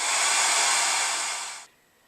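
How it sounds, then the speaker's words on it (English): A hair dryer on high, drying acrylic paint on a stencil, blows with a loud, steady airy roar, then switches off abruptly, leaving a faint hum. "you can use a hairdryer."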